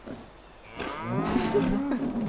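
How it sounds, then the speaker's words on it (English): Wild cows in Fallout 76 letting out a couple of drawn-out moos, close and fairly loud, the second call rising and holding longer with no speech. "Down here we got some wild moo cows."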